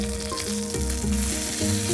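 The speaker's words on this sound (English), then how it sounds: "then we're just gonna lay the chicken in, skin side down" Chicken pieces laid skin side down in a hot pan for a Sri Lankan chicken dish, giving a steady, close crackling sizzle with faint popping that runs the whole time and no voices.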